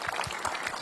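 Brief burst of audience applause from a studio crowd at a Tamil television talent show, a short, fairly faint patter of clapping heard on its own.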